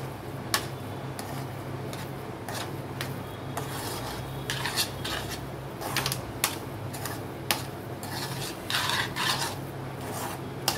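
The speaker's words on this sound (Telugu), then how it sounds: "ఇలా ప్యాన్కి అతుక్కోకుండా వచ్చిందాక కలుపుకోవాలి." Spatula scraping and stirring a thick carrot gulab jamun mixture in a pan, a steady rasping rub punctuated by sharp ticks and clacks of the utensil against the pan's edge, close and continuous.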